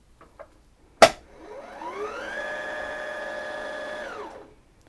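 An EverSewn Sparrow 25 sewing machine winds a bobbin at full speed: a sharp click, then a motor whine that ramps up, holds steady for a few seconds and spins down, close and alone.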